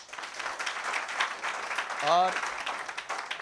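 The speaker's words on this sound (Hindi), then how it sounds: "दिलकुश कुमार बैरवा की तालियां।" A crowd applauds a student at a government school gathering, continuous moderate clapping with a voice speaking briefly over it.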